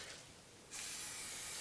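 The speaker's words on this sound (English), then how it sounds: "I'm using a canola oil spray" A short, close hiss of an aerosol canola oil cooking spray bursts on suddenly and holds steady, following a soft background rush.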